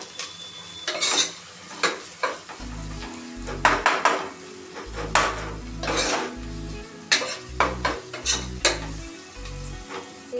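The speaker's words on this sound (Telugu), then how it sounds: "మరి కొద్దిసేపు ఆయిల్లో ఫ్రై చేయాలి" Turmeric frying in oil inside a pressure cooker while a spoon stirs it, giving a steady sizzle broken by repeated clanks and scrapes of metal against the pot. The sounds come close up, and no one talks.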